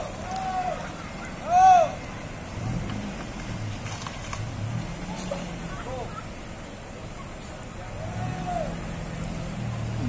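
A tour bus pulls into the Galendo 2 stop in Ciamis, its low engine rumble steady beneath ongoing talk, with a short, louder horn-like burst early on.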